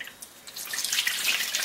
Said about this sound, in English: here I got my hydrogen peroxide mixed with water. I'll just pour all this stuff out